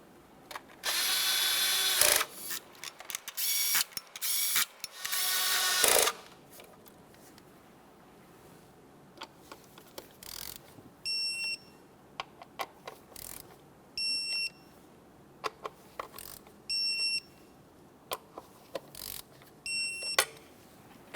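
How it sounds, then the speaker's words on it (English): Power tool runs in several short bursts on valve cover mounting bolts of a 2010-2013 Kia Forte Koup 2.4L, first in long buzzing runs, then brief spurts interleaved with faint high beeps. "Go ahead and bottom out each one of these mounting bolts and then torque those to 4 foot-pounds."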